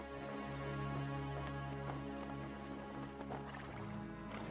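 A horse's hooves clip-clop steadily while it neighs and whinnies, loud and close, with a sustained tonal hum running underneath.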